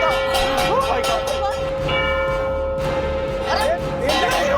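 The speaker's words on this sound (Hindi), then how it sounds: "अरे घड़ी का घंटा बंद नहीं हो रहा।" A clock chime keeps ringing without stopping in a household scene of a Hindi comedy drama, its sustained bell tone droning on loudly while people speak over it.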